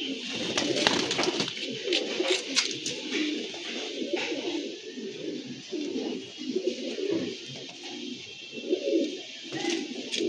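Young, restless pigeons coo continuously at close range, a steady run of soft throaty burbling calls with overlapping voices and no talking.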